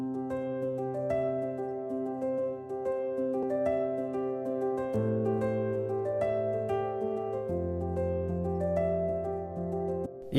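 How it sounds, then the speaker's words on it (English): A piano phrase in Logic Pro runs through a vintage EQ with boosted highs and added drive, giving a brighter, slightly gritty tone to its sustained chords and melody notes, heard alone at moderate level. "if I boost it on the highs and add a bit of drive, it sounds like this instead."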